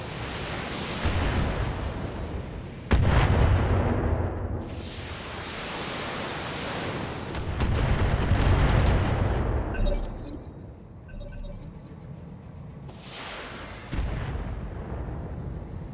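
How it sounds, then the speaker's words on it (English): Artillery shelling in the mech combat game BattleTech arrives as several heavy, booming impacts with long rumbling decays, spaced a few seconds apart, loud and close, with fainter crackling debris between blasts. "They're just gonna shell the damn place."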